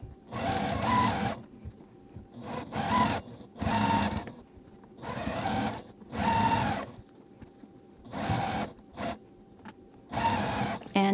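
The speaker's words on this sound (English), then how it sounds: "We can take those over to our machine and sew 1/4 inch down all our pinned sides." A sewing machine stitches quarter-inch seams along the pinned sides of Weathervane quilt block pieces, running in repeated loud bursts of rapid whirring with short quiet pauses between seams.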